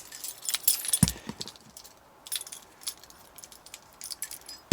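A bunch of car keys for a Triumph Stag jingles and clinks close by in irregular bursts, with sharp metallic chinks scattered across a quiet background.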